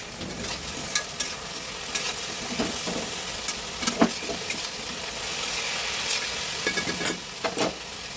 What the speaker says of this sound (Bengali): আলু ভাজাটা বসালাম